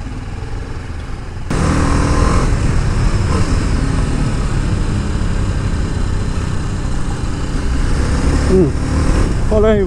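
A TVS Apache RR 310 motorcycle engine kicks in after a quiet moment and keeps running loud and close, while voices talk nearby.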